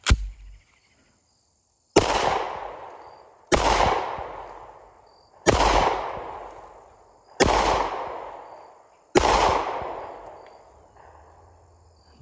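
Five sharp, loud gunshots from a Springfield XDS Mod 2 .45 ACP pistol, evenly spaced about two seconds apart, each with a ringing decay tail, preceded by a faint click and no voices.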